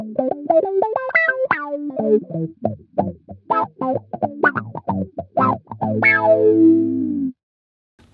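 An electric guitar runs through a vintage effects pedal with heavy distortion and chorus, playing bright picked notes and short chords, then a sustained bending chord that rings out and cuts off; no voice.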